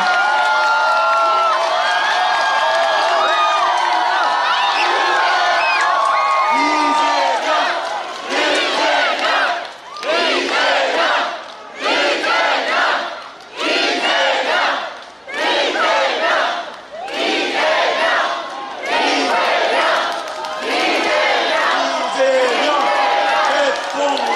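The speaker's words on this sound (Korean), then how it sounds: "박수 부탁드리겠습니다." Campaign rally crowd in Geoje, South Korea, gives sustained loud applause and cheering for presidential candidate Lee Jae-myung, the clapping and shouting rising and falling in repeated swells.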